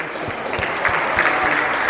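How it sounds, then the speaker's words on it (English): A few small, light claps repeat in a loose rhythm over a background hum, close by and fairly soft. "Little clap."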